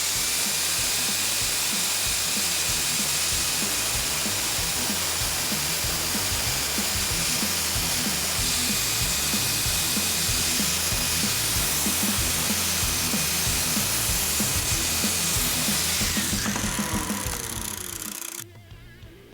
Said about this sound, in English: I'll run my flap disc right along the blade here and sharpen this up